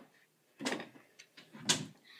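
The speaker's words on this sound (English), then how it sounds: "Close the door." A household door pushed shut, two dull knocking impacts about a second apart, fairly close and moderately loud, with soft rustling between and no talking.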